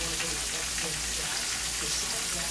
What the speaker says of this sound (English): Remember, this fish fries quick.